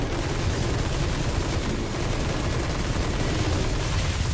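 Dense, continuous gunfire in Destiny 2 during a fight on normal difficulty in the Beyond Light campaign, a loud unbroken barrage of rapid shots filling the whole stretch with no pauses.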